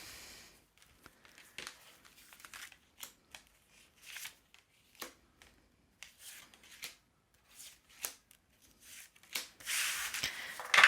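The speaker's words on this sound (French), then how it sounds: "Je vais mal étaler les cartes." Tarot cards being spread out across a table, a series of light, scattered slides and soft flicks with short pauses between them, close and fairly quiet, and a louder rustle near the end.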